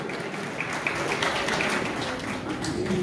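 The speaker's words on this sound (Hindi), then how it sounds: "तालियां मारो जोर दी।" An audience at a Punjabi comedy show in Calgary claps steadily, a dense even wash of applause lasting throughout.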